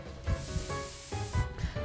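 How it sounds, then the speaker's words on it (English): Spray paint can hissing in the video game Spirit Hunter: NG, a steady broadband spray running through the whole stretch with a low musical game soundtrack pulsing underneath. "I take out the spray paint, reach towards the leg and start spraying."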